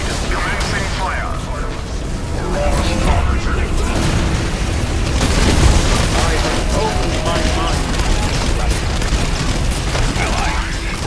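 Space Marine bombardment fire in Warhammer 40K Dawn of War III thunders as repeated booming blasts and rumbling impacts, loud and continuous, with battlefield noise and voice lines over it.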